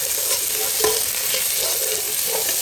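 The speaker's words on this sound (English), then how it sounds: "I will just stir fry it and just for 2 minutes or so" Garlic stir-fried in a pan for palak dal, a steady close sizzle with scraping stirs and small clatters running throughout, no talking.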